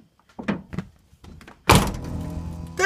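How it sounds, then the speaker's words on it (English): Rusty door of an old junk pickup truck being shut: a few light knocks and rattles, then a solid thunk of the door closing that rings on with a lingering metallic tone, close by. "The rust in the door makes an audible, like, musical note when you close the door."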